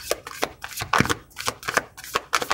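Tarot cards are shuffled by hand in quick, crisp riffles and snaps, about a dozen sharp papery bursts in rapid irregular rhythm, close and clear with no talking.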